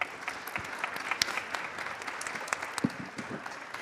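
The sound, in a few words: audience applause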